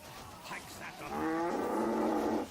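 A cow in the medieval battle game Medieval Kingdom Wars lets out a single drawn-out, nasal moo that swells after a brief lead-in and cuts off cleanly.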